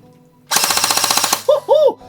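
An LCT AK airsoft rifle fires a short full-auto burst of rapid mechanical clacks lasting under a second, close and loud, followed by two brief whirring motor sounds.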